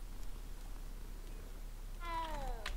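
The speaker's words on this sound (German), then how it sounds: "Noch eine Katze." Single cat meow in the video game Hogwarts Legacy, a clear drawn-out call rising near the end over a low, steady game ambience.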